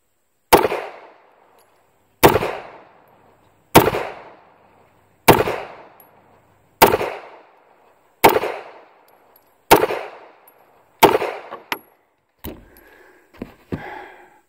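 A Smith & Wesson Model 39 pistol fires eight loud, sharp shots at a steady pace of about one every second and a half, each ringing briefly, followed by a few fainter, closer-spaced pops.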